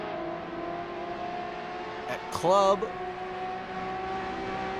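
Ferrari 599XX race cars drone steadily around a track during practice, a thin continuous engine tone from further off with a brief louder burst partway through, under a commentator talking throughout.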